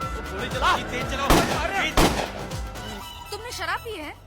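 Several loud gunshots crack in quick succession amid a busy Hindi film scene, with voices talking over the shots and music-like tones toward the end.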